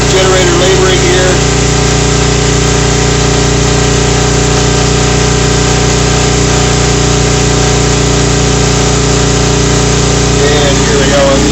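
A generator labors while powering a Whirlpool Gold double convection 30-inch wall oven during preheat, a loud, steady engine drone with constant humming tones and no change in pitch throughout.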